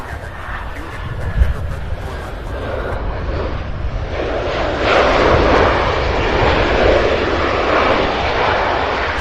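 An airliner lands at CVG airport in Cincinnati, Ohio, its engine roar building into a loud, broad rushing rumble as it nears and sustained over several seconds, with a voice talking underneath.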